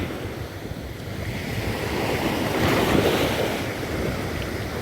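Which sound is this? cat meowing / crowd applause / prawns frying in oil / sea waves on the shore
sea waves on the shore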